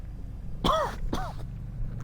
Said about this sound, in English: my throat's been bothering me, so I am coughing